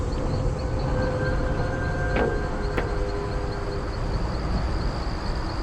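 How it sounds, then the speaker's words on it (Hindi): Train rolling along in a horror train game, a steady continuous rumble with a high faint whine and two brief sharp clanks over the drone, no talking. "चलो यार, ट्रेन लेके यहाँ से निकलते"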